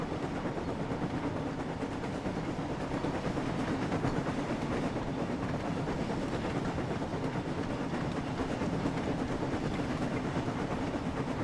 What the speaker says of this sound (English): Like if you just driving the train